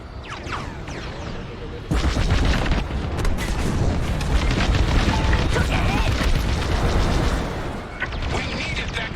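A dish blown apart by a starship in Star Wars: Squadrons gives a loud, sustained booming explosion with rumbling debris, lasting about six seconds before easing off, while voices talk over it.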